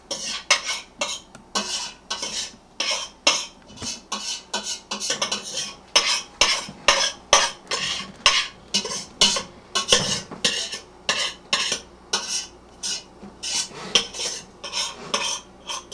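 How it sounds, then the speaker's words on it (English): A spoon scrapes around a bowl of rice pudding in quick, repeated strokes, a close, rhythmic run of clinks and scrapes that goes on without a break. "I'm going to take the spoon, and I'm going to scrape this all around."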